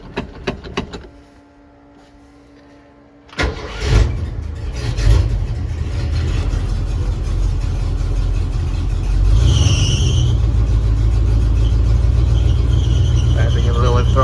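A 1978 Ford F-150 engine cranks and catches, then idles roughly and loudly before a throttle blip swells the revs, running steady and close throughout.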